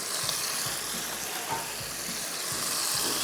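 Chicken and spinach sizzle steadily in a hot pan, a continuous close frying hiss broken by faint stirring knocks, with no talking.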